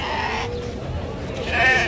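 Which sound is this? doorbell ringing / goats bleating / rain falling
goats bleating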